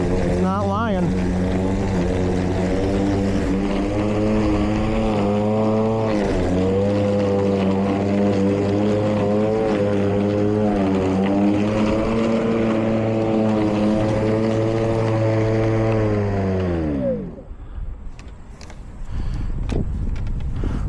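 A Milwaukee 2823-22HD electric lawn mower with a 200cc-class torque rating drones loudly and steadily while cutting thick grass, its pitch dipping and rising slightly with load, then cutting out abruptly near the end, leaving brief quiet before other noise returns.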